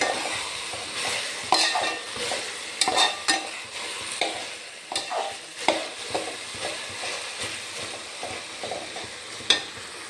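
Chicken curry being stirred in a pan, with repeated scraping and clacking of the spoon against the metal over a soft background sizzle, steady and close with no talking.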